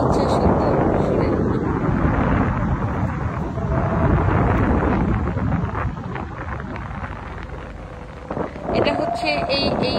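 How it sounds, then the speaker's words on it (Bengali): Strong sea wind rushes through a narrow gap left between two wooden boards, a loud, continuous roaring blow with shifting gusts that dips briefly near the end. "সাগরের ডিরেক্ট বাতাস এসে এটা কাঠের 2টা পার্ট করে মাঝখানে আপনার একটুখানি ফাঁকা রাখা হয়েছে"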